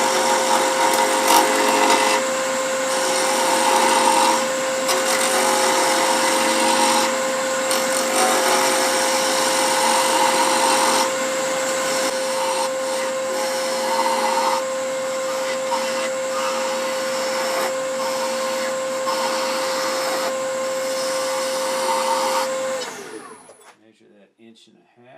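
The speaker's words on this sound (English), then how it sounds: "We're going to use the spindle, 3/8 inch spindle gouge to rough it." A wood lathe spins a pear blank at high speed while a 3/8 inch spindle gouge roughs it, a loud steady whine with scraping cut noise that winds down at the end, a voice speaking over it.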